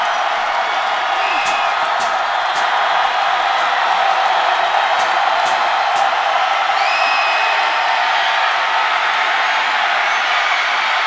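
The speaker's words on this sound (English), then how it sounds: "this crowd is really into the ball game right now" A college football stadium crowd roars steadily throughout, a dense sustained cheer with occasional whoops rising above it, loud and unbroken from start to finish.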